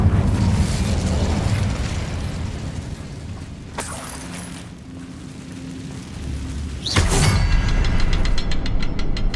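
An Incendio fire spell blasts in Hogwarts Legacy, a sustained roaring rumble broken by sharp bursts near the middle and again later, the second swelling into a louder, denser roar with a fast ticking texture.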